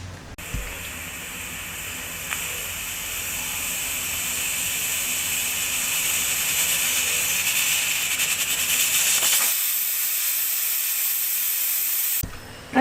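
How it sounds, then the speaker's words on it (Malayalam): A pressure cooker cooking kadala curry vents steam in a long, steady, loud hiss lasting about nine seconds and then cutting off abruptly, with no talk. "പ്രഷർ കുക്കറിൽ 5 വിസിലുകൾ വന്നു കഴിഞ്ഞു."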